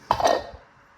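Metal lid set down onto a pot of egg curry in a home kitchen, a single close clanking clink with a brief ring that fades quickly.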